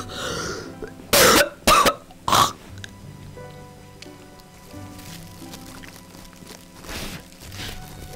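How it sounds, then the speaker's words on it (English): A person coughing three times in quick, loud bursts over quiet background game music, followed later by a fainter breathy sound. "Horrible way to start off the credits is by coughing like that."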